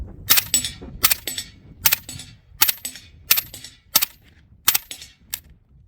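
A suppressed PTR 9CT pistol fires subsonic rounds at an outdoor range: seven sharp, closely recorded reports in a steady rhythm, each a crisp crack with a clanking action and a short ringing tail.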